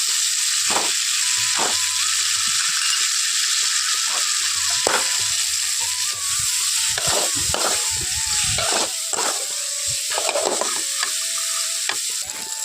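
Fried raw mango pieces being stirred into spice masala in hot oil: a steady loud sizzle broken by repeated scraping, rattling strokes of a spatula against the pan, close and busy throughout.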